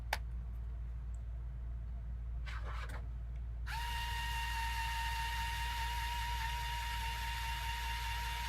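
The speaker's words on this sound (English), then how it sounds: "Trying the heat trick, which is just to spin the bolt until it gets hot enough that it melts the plastic and just sticks in." A drill spins a bolt against 3D-printed plastic to heat and melt it in, running with a steady high whine after a few clicks and brief handling noises over a constant low hum.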